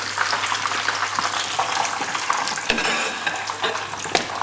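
Curry Scotch eggs made with pork and bacon or lamb mince are lifted out of hot frying oil, a steady bubbling sizzle with faint clinks, heard alone without talk.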